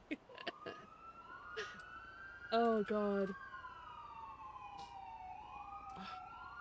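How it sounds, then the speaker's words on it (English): Police sirens wail in a GTA V roleplay game scene, rising and falling tones sweeping at moderate distance while a voice briefly speaks over them and short clicks sound in the foreground. "I can hear sirens."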